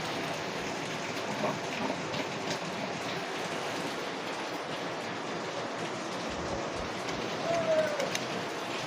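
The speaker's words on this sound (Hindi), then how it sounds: "आज थोड़ा बारिश हो रहा है" Rain falling outside, a steady loud hiss of drops filling the background throughout, with a faint tone near the end and no clear talk.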